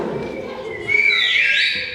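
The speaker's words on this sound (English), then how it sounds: "That's where you whistle, right there." A person whistles a rising and falling tune that swells in the second half, heard near and fairly loud over low background murmur during a hand-shadow performance.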